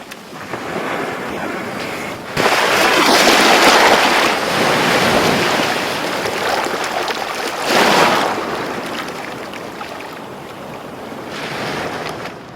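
Sea waves breaking on a beach at Kolthare, Maharashtra, with loud surges of surf rolling in and washing back, two big swells standing out over steady wind noise, no voices.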